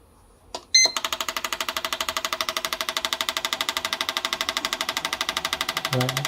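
Idle test on a non-running five-speed Jaguar XJ-SC: a sharp click and start-up burst, then a fast, evenly spaced mechanical pulsing that stays steady and close, with a low thump near the end.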